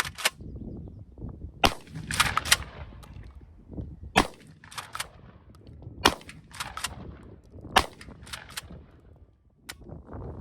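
A KelTec KSG bullpup 12-gauge shotgun fires repeatedly outdoors, with sharp loud blasts spaced irregularly about every one to two seconds, interspersed with pump-action clacks and faint shuffling between shots.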